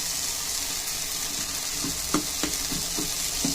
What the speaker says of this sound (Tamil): வெல்லத்தை இதோட சேர்த்துட்டு நல்லா கொதிச்சு வரட்டும்